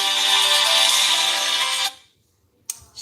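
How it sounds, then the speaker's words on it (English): A mobile phone ringtone rings steadily and loudly at close range, then cuts off, followed by a brief clatter after a short silence. "Now my phone's gonna ring"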